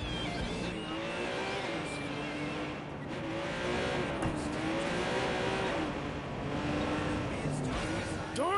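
A car driving through city streets in Watch Dogs 2, its engine droning steadily with rising and falling revs and faint tire noise, loud and continuous for the whole stretch.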